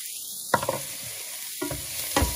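Pepper tossed into onion frying in a pan for Algerian tchektchouka, with a steady close sizzle broken by three quick stirring scrapes.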